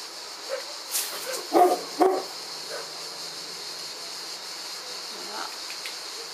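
A few distant dog barks come in a short cluster, faint over a steady background hiss, then quiet hum remains.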